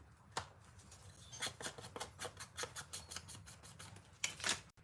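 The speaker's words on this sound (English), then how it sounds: "And we'll take this black piece and we'll tear that." A black sheet of paper for a junk journal being torn by hand, close and quiet, in a series of short ripping strokes that come one after another, with a single sharp handling noise near the end.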